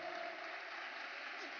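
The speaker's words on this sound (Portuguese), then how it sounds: "Salva de palmas." An audience at a happiness congress lecture gives a short round of applause, a dense even wash of many hands clapping, heard somewhat distant and faint.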